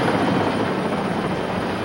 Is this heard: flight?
yes